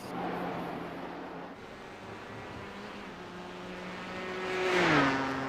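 A racing car engine in a NASCAR-configuration sim race at Watkins Glen hums steadily, then swells and sweeps in pitch near the end as it revs or passes close by.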